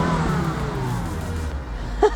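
Engine of a Volvo XC90 with a misfire and a PCV fault that burns oil, rising and falling as it revs up close, with a short knock near the end.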